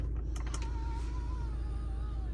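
Motorised dashboard screen of a salvage-damaged Audi A6 C7 opening or closing: a few light clicks, then a thin, steady electric whine sliding in pitch over a low cabin hum.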